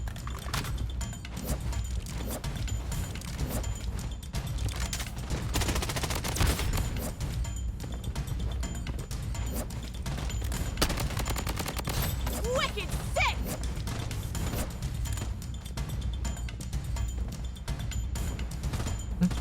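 Rapid gunfire rattles through a first-person shooter match in Blood Strike, with dense automatic bursts and sharp shots sustained loudly throughout, while someone talks over the shooting.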